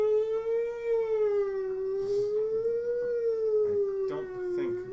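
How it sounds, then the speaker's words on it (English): A wailing siren sound effect played during a Dark Sun Dungeons & Dragons tabletop session, one steady rising and falling tone that fills the whole stretch loudly, with no talking over it. "I was just trying to find like a siren or something like that."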